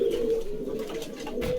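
A pigeon at a pigeon market cooing softly and repeatedly in a low, steady murmur, close by, with no other sounds over it.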